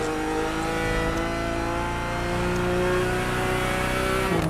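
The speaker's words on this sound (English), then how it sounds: "the BMW i8 Roadster Stellar Edition, famed for making a silly engine sound" A BMW i8 Roadster Stellar Edition in a racing video game gives a sustained, loud electric-hybrid engine drone with a rising whine, steady throughout and alone without talk.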